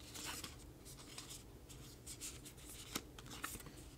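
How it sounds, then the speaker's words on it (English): Tarot cards slide and shuffle across a tabletop in soft close scrapes and light taps, with a couple of sharper ticks, quiet and without talk. "let's move these cards up more"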